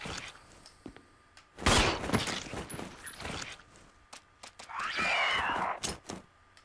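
Gunfire in Resident Evil HD, a few sharp shots and a loud burst in the middle of the fight, mixed with groans and footsteps while a player talks under it.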